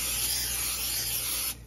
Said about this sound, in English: So I will use the spray olive oil.